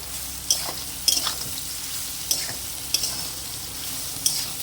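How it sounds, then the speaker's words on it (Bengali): Soybean chunks sautéed and stirred in a kadai, with regular scraping spatula strokes about once a second over a gentle steady sizzle, close and clear with no speech. "দেখুন এইভাবে কষে নিয়েছি।"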